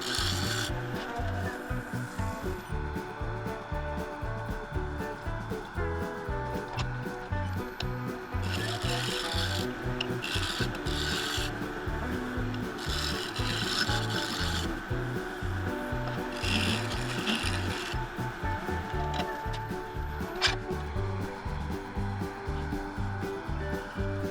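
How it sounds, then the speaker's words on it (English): A steel scraper works across a redgum and epoxy bowl spinning on a lathe, cleaning up glue lines with a steady, continuous rasping scrape over the constant hum of the machine. "Now I'm just using the scraper to clean up those glue lines"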